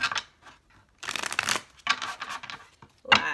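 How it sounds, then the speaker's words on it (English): Tarot cards are shuffled by hand in short rustling, riffling bursts separated by pauses, close and fairly crisp, with a sharp snap near the end. "Last shuffle."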